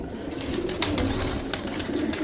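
Pigeons offered for sale coo softly and repeatedly, with low, rolling calls close by over a light, busy background.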